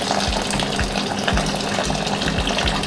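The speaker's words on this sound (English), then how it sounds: "My water's going in." Water pours steadily from a tap or jug into a cooking pot of lentils being made for cottage pie, a continuous close gushing splash with no voices.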